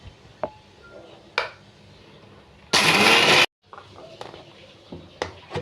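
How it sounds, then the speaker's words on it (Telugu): A mixer grinder roars in one loud burst of under a second while coarsely grinding jowar (sorghum), framed by scattered kitchen clinks and taps in an otherwise quiet room. "ఇవ్వండి, మిక్సీ వేసాను."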